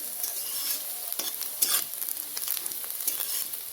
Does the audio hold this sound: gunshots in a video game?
no